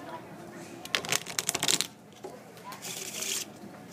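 A deck of playing cards is shuffled up close, giving a burst of rapid riffling clicks followed by a shorter rustling sweep, with no talking over it.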